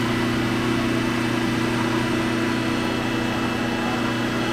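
A newly fitted, larger electric motor on a wood planer runs at steady speed, a loud continuous hum with layered tonal whine and no pauses or talking.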